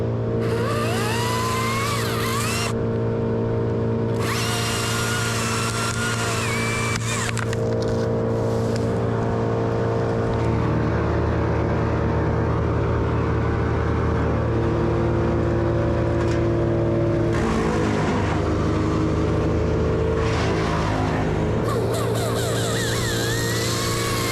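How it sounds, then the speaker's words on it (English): A wood chipper's small engine drones steadily nearby on a giant sequoia removal job, its pitch rising and falling as it revs up and down, with bursts of higher whine layered over the rumble. "I keep turning off and on the chipper while revving up and down"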